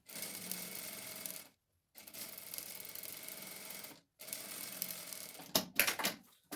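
A sewing machine stitches a zipper seam on a bag made from EVA scraps, running in three steady whirring bursts separated by brief silent pauses, then a few quick clattering stops and starts.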